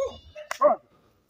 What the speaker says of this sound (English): And there's some bad dogs here.